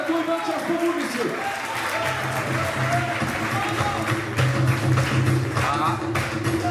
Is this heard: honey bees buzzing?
no